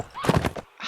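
Horse in Mount & Blade: Warband, a short burst of hoof clip-clop and a whinny, loud and close, lasting under a second with no talk over it.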